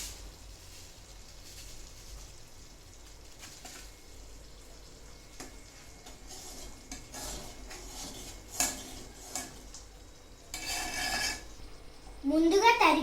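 A spoon clinks and scrapes against a pot while cooked gram flour for Bombay chutney is stirred, quiet irregular knocks that grow louder and busier near the end, with faint voices in the background.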